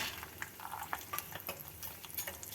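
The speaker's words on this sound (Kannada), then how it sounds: "ಒಂದು ಚಮಚ ಕಡಲೆಬೇಳೆ ಸೇರಿಸ್ತಾ ಇದ್ದೀನಿ ಇದನ್ನು ಸ್ವಲ್ಪ ಬಾಡಿಸ್ಕೊಳ್ಳೋಣ" Chana dal frying in hot oil and being stirred, with soft crackling sizzle and scattered scraping clicks of a spoon against the pan, faint and close, no voices.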